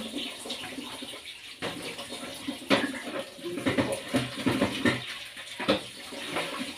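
Dishes being washed under running tap water: a continuous splashing stream with clattering and knocking of crockery, close and fairly steady throughout.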